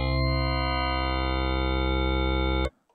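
A Sequential Pro 3 wavetable oscillator on the Multiverse wavetable sustains a dense, buzzy harmonic tone for under three seconds before stopping abruptly.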